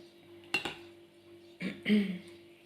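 A metal spoon stirs oatmeal porridge with berries in a pot, with a few sharp clinks against the side and soft scraping scrapes between them, close and fairly quiet.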